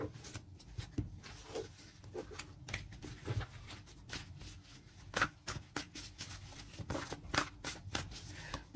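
Tarot cards being shuffled for a new draw, a soft run of quick papery riffles and taps, close and quiet, with no voice over it.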